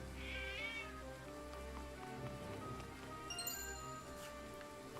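A cat in the Triangle Strategy video game gives a short meow near the start, set against a quiet ambient backdrop of soft rain and gentle musical tones, with a brief chime later.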